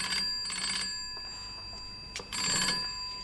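An old telephone bell rings in two bursts with a pause between them, clear and moderately loud indoors, and nobody speaks.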